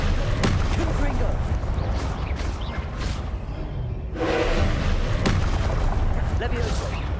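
Repeated Confringo blasting spells exploding in Hogwarts Legacy, loud booming impacts with whooshes over dense game combat noise, while a voice speaks over the action.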